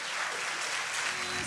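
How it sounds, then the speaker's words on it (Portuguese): Church congregation applauding in a sustained, even wash of clapping that fills the space at steady loudness throughout. "Um aplauso ao Senhor Jesus."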